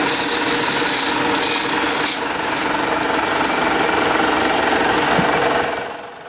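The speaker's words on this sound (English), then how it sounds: "He's stitching the welt onto the insole." An industrial stitching machine sews the welt onto the insole of a Goodyear welted shoe, producing a loud, dense, continuous mechanical rasping drone that eases off slightly at the end.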